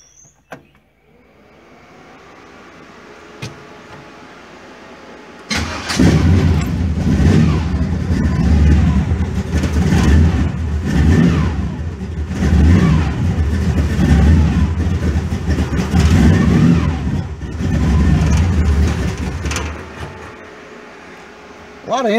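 A rat rod's engine starts in sub-zero cold after a quiet lead-in, then runs loud and steady with a rough, throbbing idle through its intake and carburetors as it warms up, with no talk over it.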